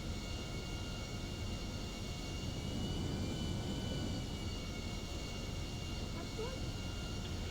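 Steady airplane engine drone in GTA 5 as the aircraft lands on a road, a constant broadband roar with a faint whine, unchanging and moderately distant throughout.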